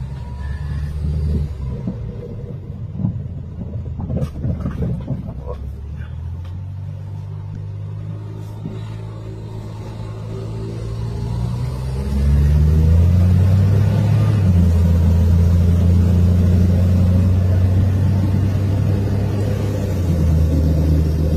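Engine of a Suzuki DA64W minivan on a road test drive, a steady low rumble from inside the cab that rises into a louder, sustained drone as the van accelerates, with no talk.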